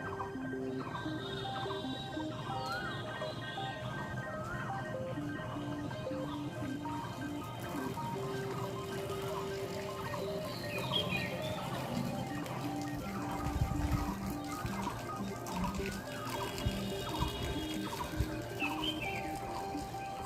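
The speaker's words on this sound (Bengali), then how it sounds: "কত রকম পাখি ডাকছে দেখো বন্ধুরা" Many kinds of birds call and chirp around a rural home on a hot morning, a steady dense chorus of repeated calls near and far, with a cuckoo-like coucal among them, with no talk.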